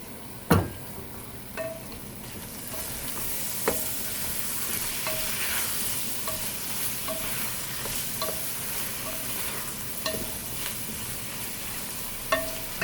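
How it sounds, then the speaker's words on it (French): Tomato frying and being stirred in a pan, a constant sizzle broken by repeated sharp scrapes and clicks of a utensil against the pan at irregular intervals, close by. "on va ajouter notre tomate."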